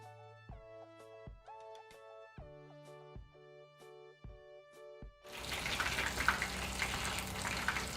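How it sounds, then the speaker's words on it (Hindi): Fish fingers hit hot oil over a medium flame and burst into a loud, steady sizzle during the last few seconds, after a run of soft plucked musical notes. "अब इस फिश को फ्राई करेंगे।"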